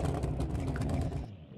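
A car engine revs steadily in a racing game, a throaty pulsing drone that carries for over a second and then cuts off abruptly.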